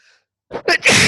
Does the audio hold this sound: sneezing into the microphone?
yes